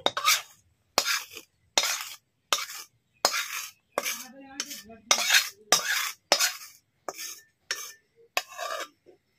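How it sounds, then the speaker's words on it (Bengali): A metal spoon scraping almond khaja mixture out of a kadai onto a plate, about a dozen separate sharp scrapes and clinks in a steady rhythm, close and clear with quiet gaps between them. "এটা আমি এখন কড়ার থেকে একটা থালার মধ্যে নামিয়ে নিচ্ছি।"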